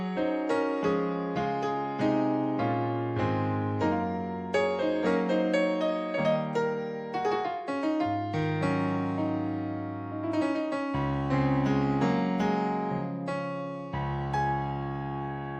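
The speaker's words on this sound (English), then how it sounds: "The first one is a concert grand and it sounds like this." Concert grand piano voice from a Yamaha Motif XF sound library played alone as a continuous demo, with full chords and melodic runs ringing across low and high registers at a steady, loud level.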